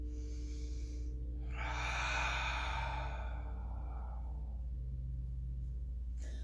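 A long cleansing exhale during yoga, breathy and close, swelling and fading over several seconds above a steady low hum.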